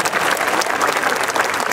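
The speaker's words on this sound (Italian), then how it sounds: "Ti facciamo un applauso e un grosso in bocca al lupo." Dense crowd applause fills a town square during an evening folk event in Fonni, Sardinia, a steady unbroken clatter of many hands, loud and close, with no voices rising above it.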